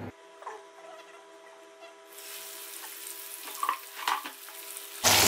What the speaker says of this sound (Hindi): तो अब मैं इसके अंदर चरगा डालकर इसको फ्राई करूंगी।